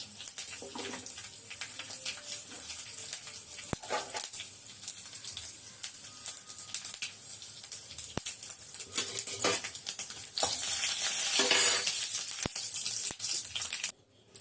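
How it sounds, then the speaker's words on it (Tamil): Mustard seeds and two broken dried red chillies sizzle and pop in hot oil as a tempering for chutney, a faint steady crackle with scattered sharp pops that grows louder near the end. "சட்னியை தாளிச்சுக்குவோம் எண்ணெய் ஊற்றியாச்சு கொஞ்சம் கடுகு போட்டுக்குவோம் ரெண்டு வரமிளகா கிள்ளி போட்டுக்குவோம்"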